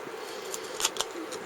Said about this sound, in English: and then I'll just snip a bit out of this first.